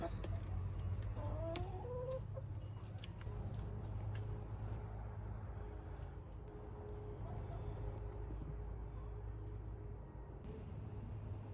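Roosters and chickens cluck intermittently at a distance on a farm with goats, over a constant bed of crickets and outdoor hiss, the calls faint and scattered.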